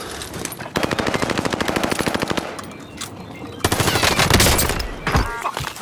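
Heavy automatic gunfire from a military shooter video game, with rapid machine-gun bursts in steady rhythm, a short lull, then a louder, denser barrage mixed with explosions and scattered game voice lines.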